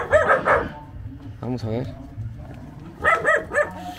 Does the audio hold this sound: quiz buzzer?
no